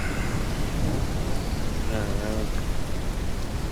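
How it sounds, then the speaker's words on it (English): Steady heavy rain hisses throughout a Ranch Simulator game scene, with low thunder rumbling underneath. The downpour is loud and constant and fills the whole stretch. "Man, that rain just came out of nowhere, didn't it?"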